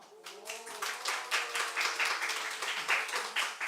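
A church congregation claps during a Sunday worship service, a steady patter of many hands that swells after a quiet start and holds for a few seconds, with a voice speaking faintly beneath.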